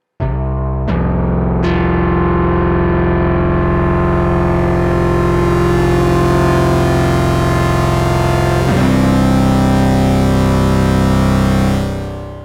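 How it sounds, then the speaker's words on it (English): Digital voice of a MOTOR Synth MKII, four digital oscillators modelling analog ones, sounding as a loud sustained buzzy synth tone, with sharp attacks at the start, a pitch shift near nine seconds, and a fade at the end. "there is in fact a digital voice, or DCO, which consists of 4 digital oscillators that model analog oscillators"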